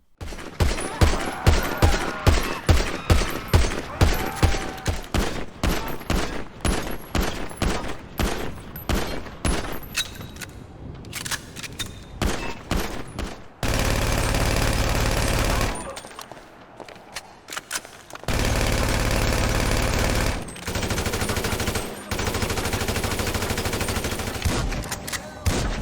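Video game gunfire: rapid bursts of sharp repeated shots in the first half, then longer sustained noisy stretches of continuous firing, loud and dry with brief gaps between volleys.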